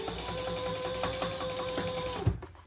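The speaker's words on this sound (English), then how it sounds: "then top stitch on the flap, on the side panel." A sewing machine runs steadily, top stitching the flap of a handmade waist pack, a continuous close mechanical whir with a rapid needle rhythm before it stops and a brief clunk follows.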